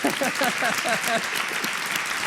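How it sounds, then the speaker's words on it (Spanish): A short burst of steady applause from a crowd, clapping continuously at moderate loudness, with some voices mixed in. "Un aplauso, ¿qué? Para mí."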